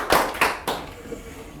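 Three sharp hand claps ring out close together as a speaker is welcomed at a political lecture event, then fade into quiet room tone.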